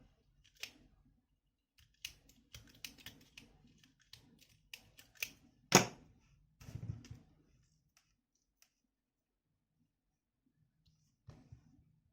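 The end of an electrical cable is stripped of its insulation while a 12-volt car test pen is built from a ballpoint pen. Sparse snips and small clicks sound close by, with one sharp cut midway and then near silence.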